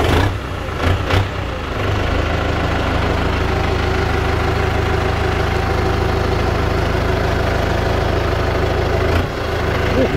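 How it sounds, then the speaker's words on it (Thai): A Kubota M9540 tractor engine idles nearby with a loud, steady diesel rumble that holds unchanged for about ten seconds after a brief opening disturbance. "เดี๋ยวฟังเสียงรถนี"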